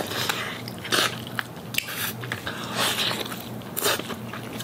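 Crayfish body meat being bitten and chewed, with soft wet crunches and crackles repeating close up in an irregular rhythm, fairly quiet and with no talking.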